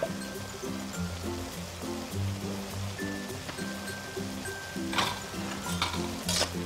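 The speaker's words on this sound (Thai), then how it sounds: "ผัดเข้ากันอีกรอบนะคะ" Pickled bamboo shoots and minced pork are stir-fried in a pan. Soft sizzling and scraping stir sounds sit faintly beneath steady rhythmic background music.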